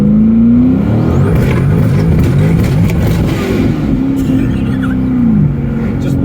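A 1000hp twin-turbo C8 Corvette with an MBRP exhaust spins its wheels, its engine loud and close and revving up and down in rising and falling sweeps throughout.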